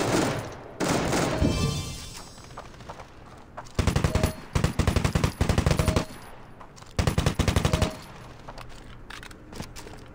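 Rapid automatic gunfire from the mobile shooter Standoff 2, gun game mode: loud bursts of machine-gun shots in several volleys, with a short rattling burst early and background game noise between.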